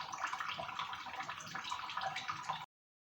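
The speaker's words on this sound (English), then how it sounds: "We're going to hang this to drip out all of the whey for," Ricotta whey draining from cheese hung in butter muslin gives a steady watery trickle that runs without a break for several seconds, fairly faint, and then stops abruptly. No speech is heard.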